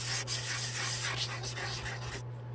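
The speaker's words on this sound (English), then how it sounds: "use your thinner sandpaper and you need to go back over it. And I'm just doing circular motions." Hand sanding with fine sandpaper in circular motions, a continuous close scratchy rubbing that swells and eases with each stroke, then cuts off abruptly near the end.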